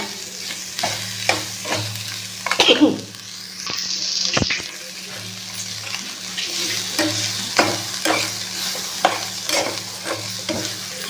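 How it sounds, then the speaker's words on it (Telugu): Onions salted and frying in a little oil sizzle continuously while a utensil stirs and scrapes the pan in regular strokes, with a couple of louder clanks partway through. "ఉప్పు వేసాం కదా సో ఆనియన్ కూడా కొంచెం వేగిపోయి ఉంటుంది"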